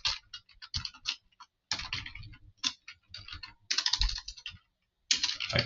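Close-up bursts of rapid clicking keystrokes on a computer keyboard, in uneven runs separated by short pauses, with no talking.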